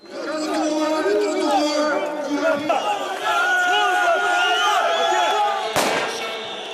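A loud, dense crowd of protesters in Tirana keeps up continuous overlapping chatter and shouting, with a sharp bang near the end.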